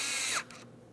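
A power tool tightening a fastener on the window motor of a 2003-2008 Toyota Matrix 1.8L, a close, brief whirring ratchet burst that winds down and stops, then a faint tail.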